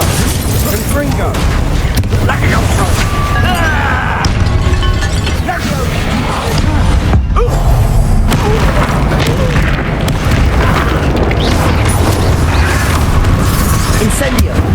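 Confringo blasting spells go off in Hogwarts Legacy combat, a loud, continuous barrage of booming explosions and crashes layered over heavy low rumble, with a voice shouting spell names throughout.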